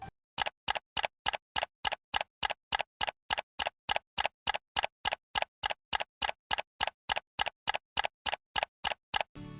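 A clock ticks alone in a steady, even rhythm of sharp, close clicks, about three per second, running the whole way through.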